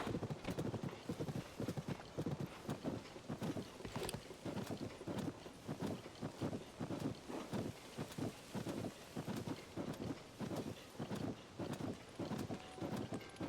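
A horse trotting in Zelda: Tears of the Kingdom, a steady rapid clip-clop of hooves in an even galloping rhythm, close and continuous over a soft ambient background.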